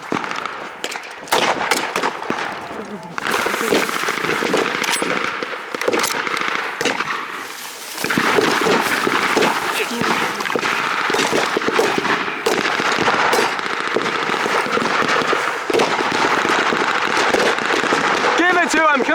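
Blank rounds fired at a battle reenactment on a farm, loud cracking shots and crackle running almost continuously under shouting voices and commotion.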